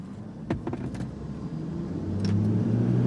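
A Toyota Fortuner and a Kia Seltos in a drag race: a faint, muffled vehicle engine murmurs quietly, then swells and rises in pitch toward the end as it accelerates, with a few soft clicks early on.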